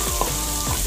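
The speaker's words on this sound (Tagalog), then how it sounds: "ginigisa ko yung bawang" Garlic sautéing in a pan for noodles with vegetables, a short burst of dense, close sizzling with a couple of quick stirring scrapes.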